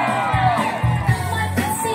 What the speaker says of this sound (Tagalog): Palakpakan na may kasamang hiyawan.